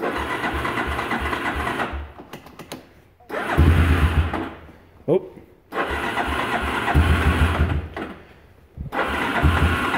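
A 1994 Yamaha Warrior 350 ATV with an original, unrebuilt engine on a cold morning, starting and revving close by in several loud bursts separated by short pauses, with a brief voice in between.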